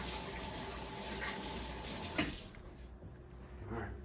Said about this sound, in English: I'm gonna rinse off my hands a little bit because I got some burger juice on there